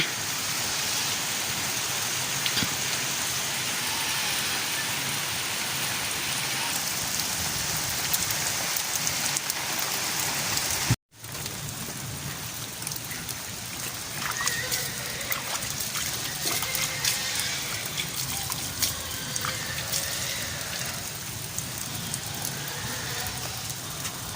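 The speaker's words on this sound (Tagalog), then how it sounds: "ang lakas ng ulan" Heavy rain pours down in a dense, constant hiss, broken once by a brief silent gap before the downpour continues.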